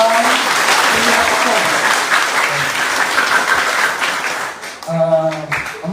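A congregation at an Ilocano sermon in Isabela claps together in loud, dense applause for several seconds before it drops away, and a voice speaks at the close.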